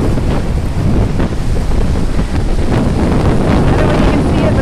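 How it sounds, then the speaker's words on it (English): Hurricane-force wind buffets the microphone on a beach as blowing sand hisses and heavy surf roars underneath, a constant loud, gusty wash with no clear breaks and no talking. "The wind and sand's buffeting on the other direction."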